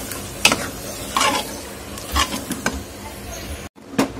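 A spoon stirs salted mutton masala in a pan, making repeated scraping strokes against the metal over a faint sizzle, with a brief cut to silence before one last scrape.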